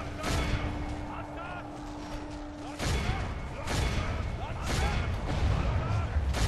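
Dense battle noise from Medieval II: Total War with the Call of Warhammer mod, with repeated volleys of gunfire and cannon, rolling bursts of shots and thuds layered over a constant din.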